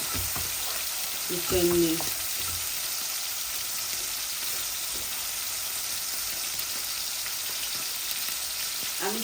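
Tilapia and potatoes sizzle loudly in hot spiced oil while being stirred, a steady close frying hiss with scraping stir sounds, and a voice briefly speaks early on.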